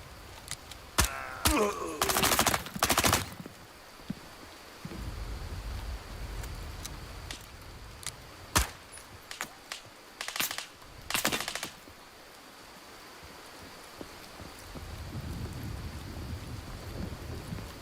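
Heavy gunfire in the game Incursion Red River: scattered sharp shots and short bursts of automatic fire, some close and cracking, others more distant, over a hissing, rain-like background.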